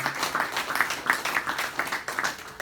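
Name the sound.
audience applause at temple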